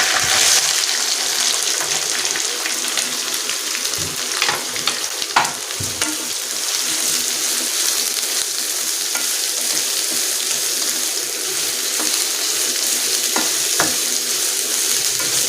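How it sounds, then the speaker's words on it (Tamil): Onions sauté in a pan with curry leaves, mustard seeds and garlic for an anchovy thokku, a steady close sizzle with scattered spoon scrapes and stirring taps. "இப்போ வந்து இந்த வெங்காயம் வதங்கட்டும்."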